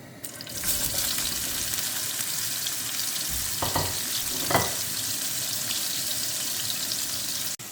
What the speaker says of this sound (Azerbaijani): Digərlərini də əlavə edib eyni formada qızardıram.